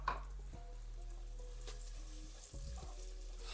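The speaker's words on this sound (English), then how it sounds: "So there goes the onions. Ginger and garlic." Onions, ginger and garlic sautéing in a pan for kadai paneer, a steady close sizzle with a low hum beneath and occasional faint clinks of stirring.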